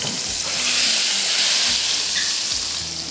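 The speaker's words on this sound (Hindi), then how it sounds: "अब डिश में निकाल कर फिर तड़का डालूंगी" Hot tarka tempering poured into cooked dal in a kitchen, giving a loud continuous sizzle and frying hiss with bubbling and faint stirring knocks, close and steady without talk.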